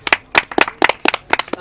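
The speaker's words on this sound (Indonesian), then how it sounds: "Tepuk tangan dulu kita." A small group claps hands during a live student podcast discussion, a handful of quick, close, sharp claps in uneven bursts, loud and dry.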